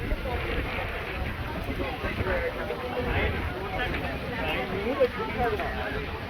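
Wind buffets the microphone with a steady, rushing roar at Sukhna Lake, Chandigarh, gusting slightly throughout.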